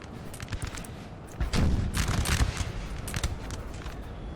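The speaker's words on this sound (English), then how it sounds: "their artillery is still shooting and shelling us" Artillery shelling in the video game Napoleon: Total War 3, a 3v3 battle, with a steady din of distant gunfire and booms that swells into a heavier cluster of blasts midway before easing back to scattered shots.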